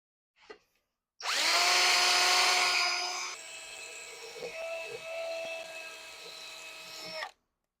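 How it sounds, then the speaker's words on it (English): A wire wheel whirs loudly as it scrubs gunk off a vintage drill press, starting with a bright high-pitched grinding whine that settles into a lighter, steadier spinning hum before cutting off abruptly. "I'll wire wheel that out of there."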